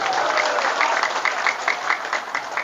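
An audience applauds steadily, a dense continuous patter of many hands clapping at fairly close range, with no talk over it.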